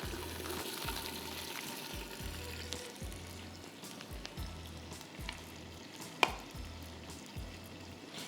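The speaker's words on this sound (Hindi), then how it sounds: "इसको हम 5 मिनट फ्राई करेंगे" Oil sizzling steadily in a pan on a stove while mango cheese pie filling fries, with soft chopping or stirring knocks repeating underneath and one sharp clink near the end.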